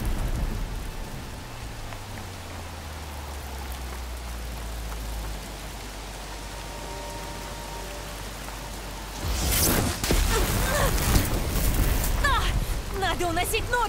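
Steady rain and thunder in the video game Horizon Forbidden West: Burning Shores, a constant wash of rainfall with low rumbles, then a loud thunderclap crashing in near the end and lingering.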